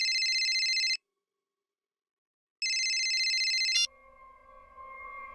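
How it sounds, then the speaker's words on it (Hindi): An electronic phone ringtone sounds in two loud bursts separated by a silent gap, then cuts to a quieter, lower tone with a faint background hum. "अब इस वक्त किसका फोन आ गया?"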